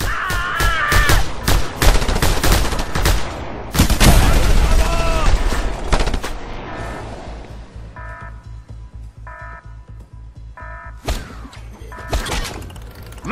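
Rapid bursts of mounted-gun fire in the Just Cause 2 video game crack loudly in the foreground, mixed with crashes and shattering impacts, then thin into spaced short volleys before a final louder flurry.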